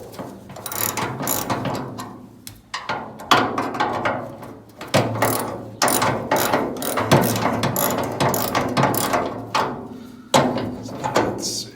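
Ratchet clicking repeatedly while a bolt is loosened during removal of a Karmann Ghia's instruments, close and loud, in bursts of rapid pawl ticks separated by short pauses, with no talking.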